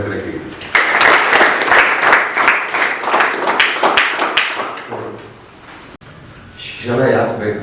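School students clap together in a burst of applause, mixed with voices talking over and around it, fading out partway through before a brief rise of sound at the end.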